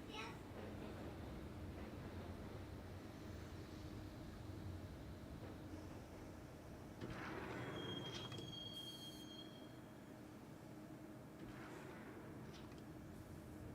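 A train ride in the video game Max Payne rumbles steadily with a thin wheel squeal rising midway, while someone speaks calmly over the rolling noise.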